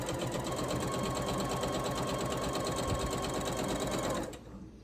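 A sewing machine runs steadily while stitching quilt-block triangles corner to corner, a loud continuous mechanical whir with rapid needle rhythm that stops abruptly near the end.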